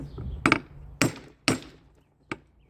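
A hammer strikes a chisel set against a vise on a table that gives slightly: three sharp metallic blows in quick succession and a fourth after a pause, loud and close, with no talking.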